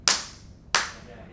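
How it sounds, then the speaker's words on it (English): Two sharp hand claps about half a second apart in a hi-fi show demo room, each followed by a short ringing, slightly rattling echo that decays in the room. "So if I clap, you hear that? You hear a kind of rattle here."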